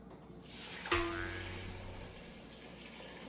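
Bone broth splashes into a large pot with a sudden liquid rush that settles into a steady pour, close and moderately loud.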